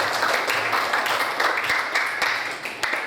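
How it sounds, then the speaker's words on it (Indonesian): Classroom applause for a student's correct answer, a steady patter of many hands clapping at close range for about three seconds with no talk over it. "Oke, tepuk tangan untuk jawabannya Desi."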